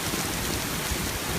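Heavy rain falls during street flooding in Mid-City, New Orleans, near Canal and Jeff Davis, a dense, close, continuous downpour hiss with no breaks over the short stretch.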